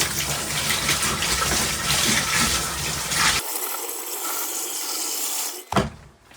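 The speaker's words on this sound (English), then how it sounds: "pour water down the toilet with my 5-gallon bucket" Water from a 5-gallon bucket is poured down an RV toilet into the black tank during winterizing, a loud rushing gush that cuts off abruptly, then a thinner trickle and a brief splash.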